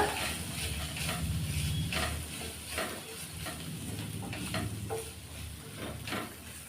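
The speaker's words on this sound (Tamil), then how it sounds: "இப்போ இதை ஒரு ரெண்டு நிமிஷம் நல்லா கலந்து விடுங்க" Roasted spice powder being stirred into a vegetable poriyal stir-fry in a pan, giving a steady close sizzle with repeated scraping and stirring strokes throughout, and no voices.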